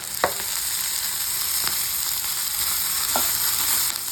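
Turkey berries fry in a small amount of oil in a pan, making a steady, close hiss with a few sharp stirring clicks scattered through it.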